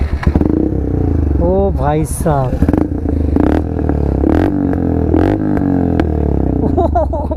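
A KTM Duke 390 motorcycle engine runs close by with a steady, loud rumble and a few sharp rev bursts, while people talk over it throughout.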